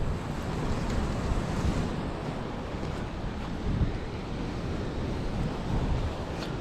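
A rough, swollen monsoon sea roars steadily close by, dense surf rolling continuously under strong wind noise on the microphone, with no talk.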